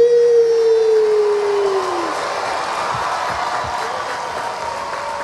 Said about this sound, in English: Come on, let's clap for the setup team.